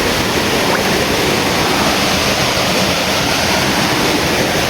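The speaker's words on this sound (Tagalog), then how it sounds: "May ilog lang yan" A shallow river flows close by, its water rushing in a loud, steady, unbroken roar with no voices over it.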